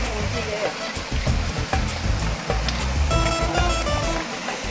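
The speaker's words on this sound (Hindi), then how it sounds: "और ये वो झरना," A forest waterfall rushes in a steady, broadband roar close by, with people talking excitedly over the water throughout.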